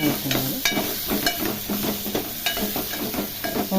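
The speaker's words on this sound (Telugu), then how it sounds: "ఆయిల్లో వంకాయ వేసి ఒకసారి ఇలా మిక్స్ చేసి ఆయిల్లో ఫ్రై అవుతున్నాను." Eggplant pieces fry in hot oil in a pan for an eggplant and potato curry, a steady close sizzle broken by rhythmic scraping and tossing strokes of a spatula.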